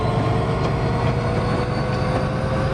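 A long freight train rolls steadily on an incline at Cajon Pass in Train Simulator 2015, giving a loud, continuous rumble of wheels and cars with faint rail clatter and no talking.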